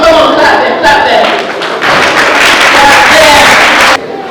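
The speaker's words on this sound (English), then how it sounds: "Come on, clap them." An audience at a graduation speech claps in a dense, loud burst that swells midway and then cuts off abruptly. A voice can be heard faintly at the start.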